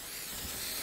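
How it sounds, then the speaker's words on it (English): A spray-paint tag sprayed in Fortnite gives a short, steady aerosol hiss lasting under a second, fairly faint and unbroken. "Who the hell is spraying on my floor?"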